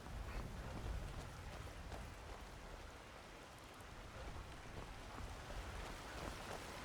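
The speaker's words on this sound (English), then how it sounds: "It's raining." Rain falling steadily in the video game Skyrim, a soft continuous patter and hiss at low level, heard alone.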